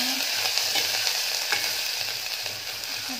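Ginger garlic paste fries in hot oil in a pan with a steady, close sizzle, and a spoon scrapes and stirs through it at intervals. No one speaks.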